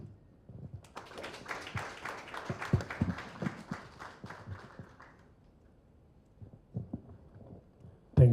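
An audience applauds at a high-level national stakeholders' advocacy meeting on neglected tropical diseases: a burst of clapping swells, then thins out and fades, with a few scattered claps near the end.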